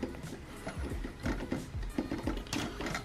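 The adjustment knob on a light stand tripod from an LED softbox lighting kit is twisted loose, giving quiet, close, irregular clicks and mechanical ratcheting with a soft rubbing between them.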